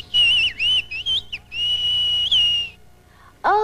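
A shepherd's whistled language: sharp, piercing whistles rising and falling in pitch, a few short bursts followed by one long sustained whistle, loud and close with no talking, then a final brief rising whistle.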